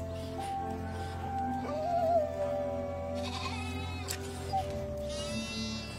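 Milk lambs bleating in a few wavering cries over steady low background noise, fairly close but soft, with no talk.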